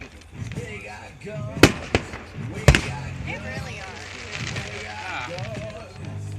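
Several sharp bangs from a city fireworks show burst out, two especially loud cracks standing above a steady crowd murmur and background chatter.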